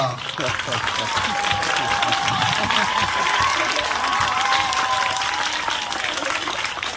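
An audience at a rakhi-making competition claps steadily and fairly loudly throughout, and a faint voice carries over the applause.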